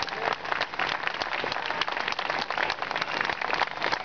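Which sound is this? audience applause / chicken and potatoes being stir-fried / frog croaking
audience applause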